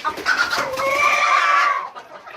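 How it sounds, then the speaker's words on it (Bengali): A broody hen of a hill breed gives a drawn-out, rising cackle-like call, close and fairly loud, trailing off after about two seconds with no talking. "এটা হচ্ছে আমার পাহাড়ি বিরিজুটি মুরগি একেও ডিম দিয়ে বসে দিলাম"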